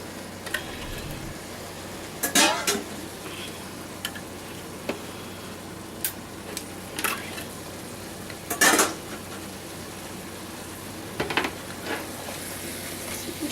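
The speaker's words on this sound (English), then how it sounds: "I'm just adding crushed tomatoes." Crushed tomatoes go into a pot of browned meat and are stirred, giving a few scattered utensil scrapes and clinks against the pot over a quiet kitchen background, with no talking.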